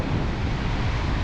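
Big storm waves churn and pound against the rocky Scottish coast during Storm Ashley, a dense, continuous low roar of surf mixed with buffeting wind.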